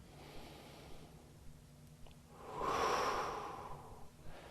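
During a yoga pose, one slow, close breath swells and fades, a soft airy exhale rising out of a quiet room.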